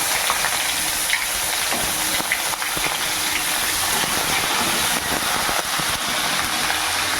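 Chopped onion frying in hot oil makes a loud, close, steady hissing sizzle with small crackles throughout.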